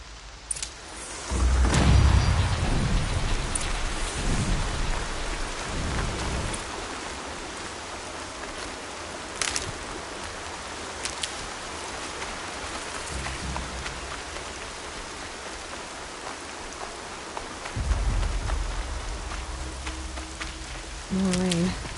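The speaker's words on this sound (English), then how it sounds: "More rain. My boots will get damp." Steady rain falling in the video game Horizon Zero Dawn, a continuous broadband hiss with brief low thumps and louder moments near the start and toward the end.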